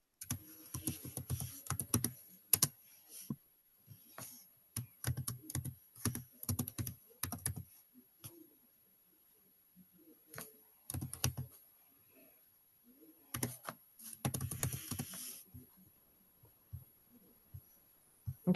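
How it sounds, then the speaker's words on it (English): Bursts of typing on a computer keyboard, clear clicking keystrokes in irregular runs separated by quiet pauses, close and fairly quiet, with no talking. "so we're going to type that in"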